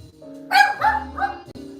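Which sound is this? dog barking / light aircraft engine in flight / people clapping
dog barking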